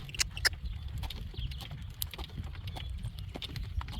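A horse's hooves clop at an even walking pace over ground on a long drive, steady and moderately close, with low rumbling noise running underneath throughout.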